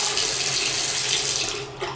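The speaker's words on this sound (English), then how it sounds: "the mandatory water pressure test. And you can see it's really good." A bathroom sink faucet runs at full pressure, giving a loud, steady, close rush of water that eases slightly near the end, with no voices.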